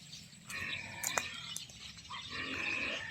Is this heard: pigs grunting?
yes